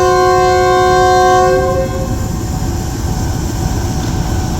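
A passenger train departing Lahore railway station sounds a long, loud horn blast close by, then the horn cuts out and a steady rumble of rolling wagons and engine noise carries on.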